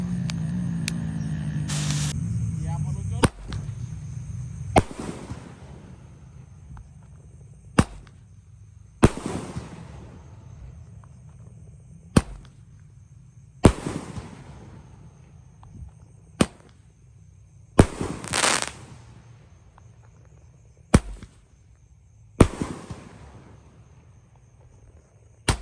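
Roman candle fireworks, an 8-shot cake, firing at night during Ramadan; a string of sharp individual launch pops and cracks spaced a few seconds apart, with a faint whooshing fizz between them and no voices.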